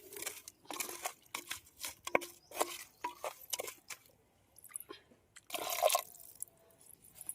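Water splashes and pours into a clay pot of fish curry in several short bursts, ending with a longer, fuller pour.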